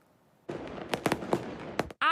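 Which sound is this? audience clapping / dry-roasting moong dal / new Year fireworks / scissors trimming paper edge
new Year fireworks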